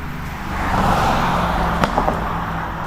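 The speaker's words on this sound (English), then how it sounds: "There you go, AMG Mercedes." An AMG Mercedes car passes on a city street, its engine swelling to a broad rush near the middle and fading away, with a few faint knocks and background traffic around it.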